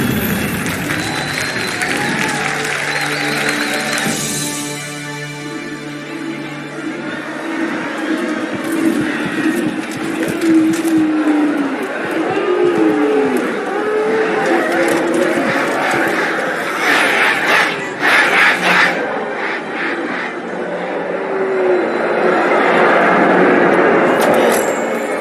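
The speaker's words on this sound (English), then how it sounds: "Quite a crowd." Crowd of people cheering and applauding in the Halo video game, a continuous roar with a hum of many voices, while characters speak over it and faint whoops and whistles rise near the end.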